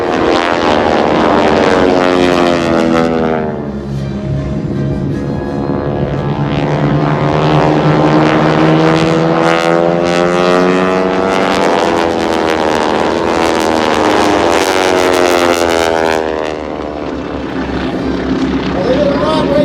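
A propeller aerobatic team plane at the 2019 Abbotsford, British Columbia airshow roars loudly through a barrel roll, its engine pitch sweeping up and down as it passes, while an announcer talks over it.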